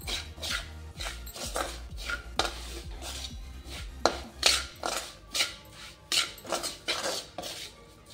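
Amla (Indian gooseberries) being sautéed in hot oil in a pan for pickle, with repeated scraping and clattering of a spoon against the pan in an irregular rhythm, close and fairly quiet.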